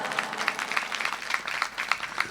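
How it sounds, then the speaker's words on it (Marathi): A kirtan audience applauds for the performer Rohini Tai Paranjape, dense overlapping clapping from many hands, steady and fairly loud across the whole stretch. "त्यांच्यासाठी एकदा जोरात टाळ्या वाजवा."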